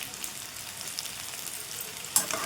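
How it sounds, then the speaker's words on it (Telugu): Ivy gourds sizzle softly in a frying pan, a faint steady crackle with a brief sharper pop near the end. "ఇదిగోండి, మనకు దొండకాయలు కూడా వేగిపోయాయి"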